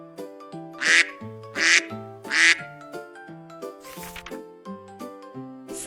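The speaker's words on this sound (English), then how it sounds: "Ducks quack." Three loud duck quacks, evenly spaced and close, ring out over a gentle tune before the music continues on its own.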